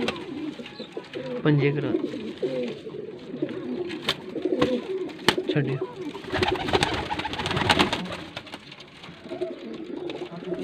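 Pigeons at a breeding setup in Faisalabad coo repeatedly in low, rounded calls, with wing flutters and clatter among them, while someone talks over the birds.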